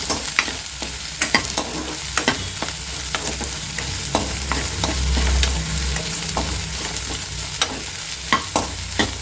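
Okra sautéing in a pan for a yogurt pachadi, a steady sizzle and frying hiss punctuated by regular scraping clicks of a spoon stirring against the pan, close and alone without talk.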